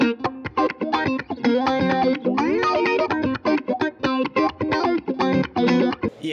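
Electric guitar played through a Walrus Audio Fundamental modulation pedal in its medium mode, a run of plucked notes and chords with a wavering, swirling effect, loud and close with no talking.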